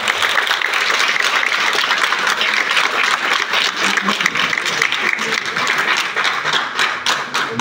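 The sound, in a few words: applause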